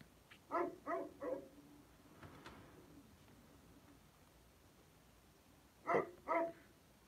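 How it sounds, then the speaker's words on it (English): A dog barks three times in quick succession, then again twice after a pause, somewhat distant and faint against quiet background. "can you hear the barking in the background?"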